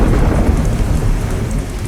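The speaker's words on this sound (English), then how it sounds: "Thunder cracked overhead and the rain intensified," Heavy rain hammers an old roof as thunder rumbles overhead, a dense, loud and continuous wash of noise with no pauses.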